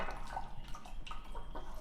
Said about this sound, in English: So I'm just gonna pour it all out.